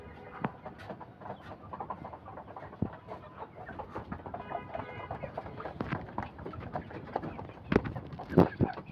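Backyard chickens cluck and scratch nearby in a busy, irregular run of short calls, with some sharper squawks toward the end.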